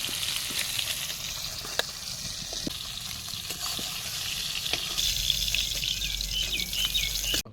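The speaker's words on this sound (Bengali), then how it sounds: "আলু কটা ভেজে দিই।" Potatoes frying in oil for a fish curry, a steady broadband sizzle running close and continuous, with a few sharp spatters and a brighter crackle swelling toward the end; no speech.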